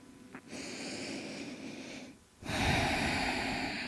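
Long, deep breathing during a yoga practice comes as slow, airy inhales and exhales, close and audible, with a short pause before a louder, fuller breath.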